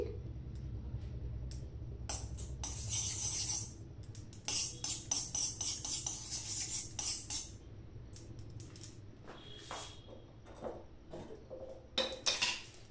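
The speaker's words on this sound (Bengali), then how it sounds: "ঘিটা গরম হয়ে গেছে। খুন্তিতে একটু জল ছিল ছিটাচ্ছে" Hot ghee sizzles and spatters in a kadai where water from a spatula hits it, a steady close crackle broken by bursts of sharp popping and clinking metal sounds.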